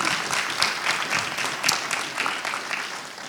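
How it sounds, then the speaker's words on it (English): Audience applause at a 20th anniversary community event for an African community economic development group in New England, a dense, sustained clapping from a crowd that carries steadily through the clip without talk. "Please give a round of applause for everyone."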